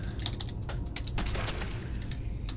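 Keys tapped on a PC computer keyboard while entering a Skyrim console command, a quick irregular run of light clicks and clacks close to the microphone over a steady low hum, with no talking.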